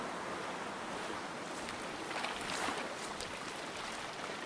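Video-game speedboat heading across open water toward the coast, a steady rushing roar of engine and spray with wind-like hiss, continuous and even throughout with no voices.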